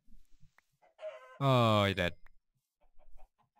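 In Minecraft, a chicken gives one loud, bright cluck in the middle, framed by a man's quiet speech before and after and a few faint game noises.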